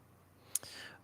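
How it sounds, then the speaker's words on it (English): A single faint computer mouse click in a quiet room, one short sharp tick followed by a soft trailing scrape. "I'll just click that little A button"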